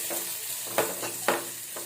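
Pepper, chana dal and poppy seeds are roasted in a pan, giving a soft dry sizzle with a few distinct scraping stirs from a spoon, close and quiet.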